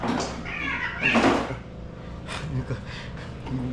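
Startled cats meow indoors near a home kitchen, a few brief cries mixed with bumps like a cupboard or door and a person talking over them.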